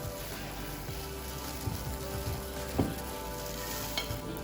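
Shredded green mango, carrot, red cabbage and bean sprouts are tossed together for a Vietnamese chicken salad. A quiet, continuous rustling hiss of mixing plays alone, with a few soft knocks.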